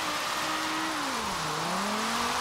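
Drift car engine in Forza Horizon 3, held at full steering lock in the rain, a sustained engine drone sliding down and back up in pitch over a broad hiss of tire noise, steady and continuous.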